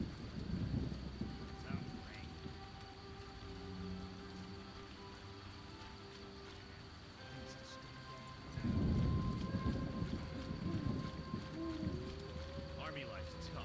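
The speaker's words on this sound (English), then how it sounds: "Was it raining before?" Steady rain with rolling thunder, a loud rumbling burst near the start and another swelling in the second half, continuous patter underneath and a voice briefly audible.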